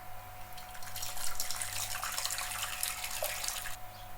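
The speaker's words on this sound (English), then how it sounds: "Add hot water." Hot water poured into a pot for steaming dumplings, a steady splashing gush that starts abruptly, runs for a few seconds and stops, close and fairly loud over a faint background hum.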